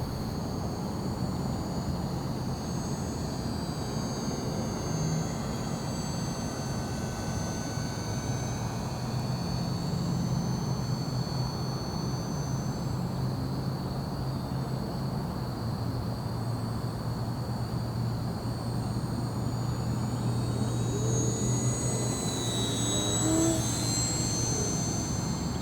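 An H-King Savage Bobber, a compact 1000mm STOL model airplane, flies overhead with a steady electric-motor whine that holds constant, then swells louder as it passes near toward the end, with no one speaking.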